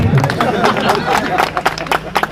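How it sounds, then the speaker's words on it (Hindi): Audience at a Rajbhar-aligned party workers' meeting in Prayagraj claps in welcome of Kanuram Prajapati, a ragged burst of close hand claps and crowd noise with a voice speaking over it. "जोरदार ताली बजा के स्वागत करिए कानूराम प्रजापति"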